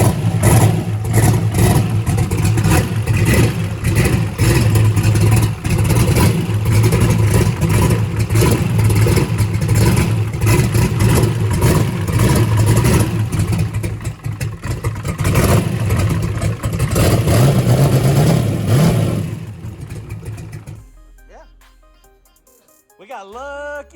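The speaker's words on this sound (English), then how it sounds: "Crank it up, Keith." A car engine revs hard and roars loudly and continuously after a header leak was sealed with a thin layer of silicone, holding high for about twenty seconds before dropping away to near quiet with faint clatter.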